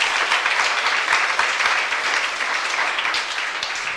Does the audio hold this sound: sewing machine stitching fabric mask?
no